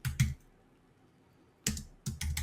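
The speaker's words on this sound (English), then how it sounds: "I'm just going to start typing text on top of that." Typing on a computer keyboard while building a landing page mockup in Photoshop, two short bursts of close key clicks separated by a quiet pause.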